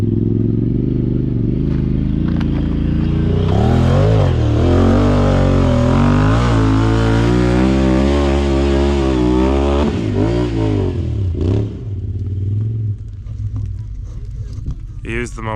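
A Can-Am Talon side-by-side UTV drives off-road at Tackett Creek, its engine revving up and down in loud rising and falling surges, with brief drops in power and other engine noise in the background.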